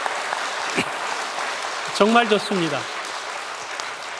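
A church congregation claps in welcome during an Easter worship service, a soft, diffuse patter of applause beneath a voice speaking.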